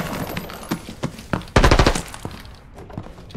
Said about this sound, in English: something just shot at me